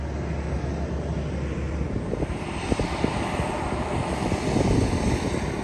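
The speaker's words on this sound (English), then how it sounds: "So there's our plane and we're going to be flying back home." A small propeller plane's engine drones steadily on King Island, a loud, continuous rumble that builds slightly toward the end, with faint scattered clicks and no talk.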